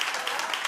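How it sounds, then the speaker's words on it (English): Studio audience applause at a daytime talk show: a short, dense wash of clapping at steady loudness. "Clap if you think that was shade."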